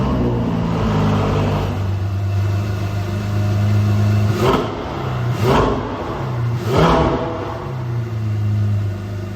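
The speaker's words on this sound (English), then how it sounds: "highlighting that incredible V8 inside and that beautiful sound that it produces" A Ferrari V8 is revved at a standstill: three rising blips in quick succession over a loud, steady engine idle.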